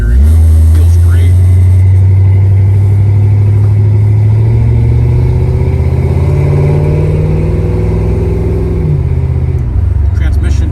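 A 1965 Ford Mustang drives with a loud, close engine drone whose pitch climbs and then shifts as the transmission changes gear, steady and continuous throughout.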